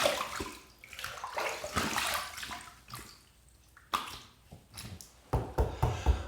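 Face being rinsed with running tap water after a wet shave, splashing in uneven bursts with pauses between handfuls, close and fairly quiet.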